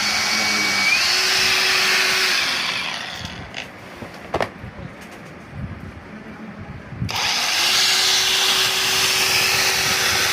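A cordless battery-powered machine whines loudly at steady speed, then winds down into a few seconds of quieter clicks and knocks before starting up again at full speed, close to the listener.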